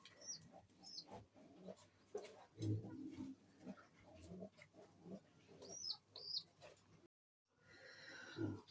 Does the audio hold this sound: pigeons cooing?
yes